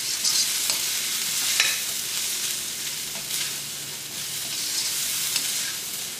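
Chicken frying in sauce in a pan for Kerala-style hot and spicy ginger chicken, stirred steadily, giving a continuous close sizzle with scraping stirs throughout and no talking.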